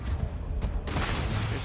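Gunfire in the space game Starfield from the weakest gun, a sustained dense rumble of shots with a sharp burst near the middle, loud and continuous without pauses.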